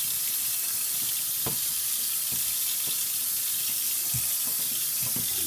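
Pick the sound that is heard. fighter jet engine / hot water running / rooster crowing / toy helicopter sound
hot water running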